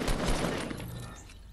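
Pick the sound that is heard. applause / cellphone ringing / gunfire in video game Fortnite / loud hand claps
gunfire in video game Fortnite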